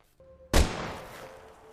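A single loud gunshot from a film scene, a sharp blast fired at close range into a man's head after a brief quiet, followed by a long fading reverberant tail with a faint steady tone underneath.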